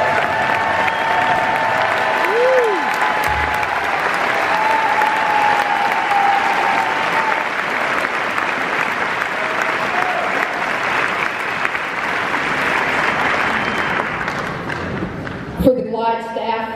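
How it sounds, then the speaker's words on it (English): An audience applauds at an honoring event for a charity's board members, loud and sustained throughout, with a few thumps near the end. "Let's give them a round of applause."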